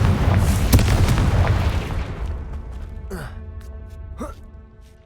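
A loud, booming Confringo fire-spell blast in the Hogwarts Legacy video game, its rumble slowly fading, with a voice gasping and calling out over the tail.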